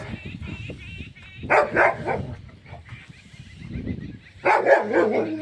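A dog barks in short loud bursts, twice in quick succession, with quieter rustling and faint sounds in between.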